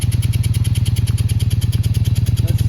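A Honda Magna VF700 motorcycle with rebuilt carburetors runs with a fast, even, pulsing engine beat, close and loud throughout, without talk.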